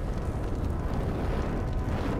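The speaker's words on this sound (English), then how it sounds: "this guy will light the thing on fire for you" A flamethrower lights a fire in the video game Valiant Hearts, producing a steady, loud roaring whoosh of flame that holds at an even level throughout with no voices.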